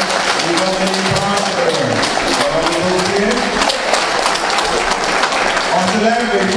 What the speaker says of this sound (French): on se lève, il faut continuer d'applaudir.